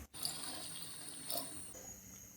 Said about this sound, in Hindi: तकरीबन 1 कप के करीब हम साथ ही पानी भी ऐड कर देंगे।